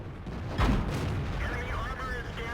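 A tank cannon fires once in World of Tanks, a single sharp boom near the start that rolls off quickly, with steady battle ambience and engine drone continuing underneath.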